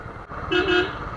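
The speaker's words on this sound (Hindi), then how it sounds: "एंड मैं निकला हुआ अपनी बाइक पर" A vehicle horn gives one short, clear toot amid road traffic while a motorbike rides through light drizzle, with the steady rumble of traffic around it.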